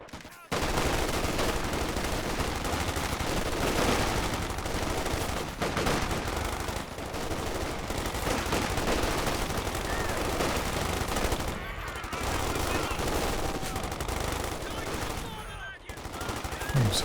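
Infantry firing in a Company of Heroes 2 battle, with an assault section charging LMG grenadiers behind heavy cover. Sustained machine-gun bursts and rifle fire roll on almost continuously, with brief lulls and a voice talking over them.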